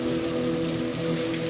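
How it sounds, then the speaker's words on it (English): Freezing rain falling during the Montreal ice storm, a dense, steady patter with a low hum underneath and no voices. "over half of Montreal's annual total for freezing rain has fallen"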